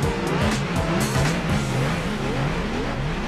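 Honda Civic EK race car pulling away from the start line in Gran Turismo 4, its engine revving up and down with tyre noise, loud and continuous, with no voices.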